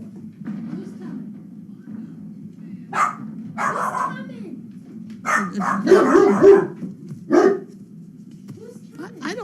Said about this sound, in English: They were both barking out the windows.